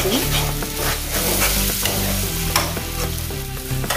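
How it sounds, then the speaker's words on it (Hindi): Masala stirred steadily in a hot pan for a spinach and gram-flour curry, a continuous close sizzle and fry broken by scraping spoon strokes, no voices. "इसको 1-2 मिनट ऐसे हम चलाते रहेंगे मसाले को"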